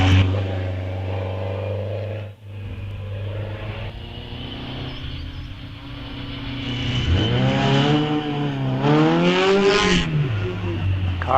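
A Riley MPH Special racing up a hillclimb course at Wiscombe Park, its engine droning loudly and rising through the revs as it climbs and shifts, close and continuous.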